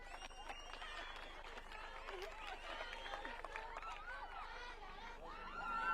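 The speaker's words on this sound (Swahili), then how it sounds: "Makofi mazuri, makofi mazuri, makofi mazuri." Crowd applause at a school bus handover ceremony for Kurum Day Secondary School, a steady wash of clapping mixed with chatter that holds throughout and swells slightly at the end.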